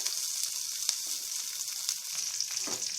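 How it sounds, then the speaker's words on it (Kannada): Mustard seeds, curry leaves and coriander leaves sizzling in hot oil, a dense, close, continuous crackling hiss with a few faint pops and no voices. "ಎಣ್ಣೆ ಹಾಕಿದ್ದೀನಿ ಆ ನಂತರ ಸಾಸಿವೆ ಹಾಕೊಳ್ತಾ ಇದ್ದೀನಿ ಸಾಸಿವೆ ನಂತರ ಕರಿಬೇವಿನ ಸೊಪ್ಪು ಮತ್ತು ಕೊತ್ತಂಬರಿ ಸೊಪ್ಪನ್ನು ಹಾಕೊಳ್ತಾ ಇದ್ದೀನಿ"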